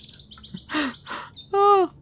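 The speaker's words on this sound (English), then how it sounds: "There's a bird." A bird chirps in the Heavy Rain video game, heard as a quick series of bright tweets followed by a louder, longer warbling call, clear and close with no talking over it.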